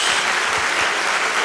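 A church congregation claps for Jesus during a Portuguese-language sermon, a loud, dense, continuous round of applause filling the room with no voices over it.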